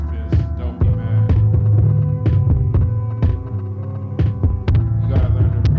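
Dirty, lo-fi hip-hop beat sampled from cassette and deliberately filtered, with a thumping low kick and throbbing bass pattern under muffled, punchy hits, loud and steady throughout with no voices.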